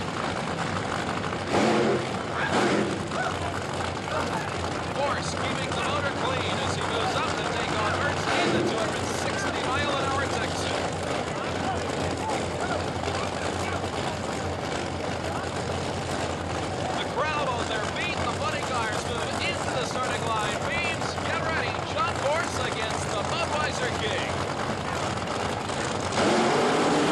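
A drag racing car roars down the strip at the 1984 World Finals in Pomona, a sustained loud engine howl that builds and holds at the top end beneath continuous commentator talk.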